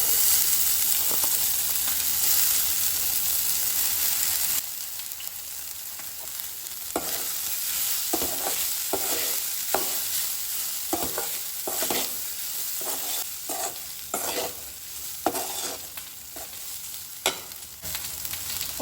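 Chopped onion and leftover cooked rice sizzle steadily in a pan, with repeated scraping stirs of the spatula cutting through the continuous frying hiss.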